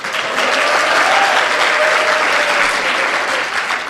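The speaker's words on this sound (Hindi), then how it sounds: "तालियां बजा दीजिएगा आप" An audience at a Hindi kavi sammelan bursts into loud, sustained applause, many hands clapping densely and evenly from start to finish.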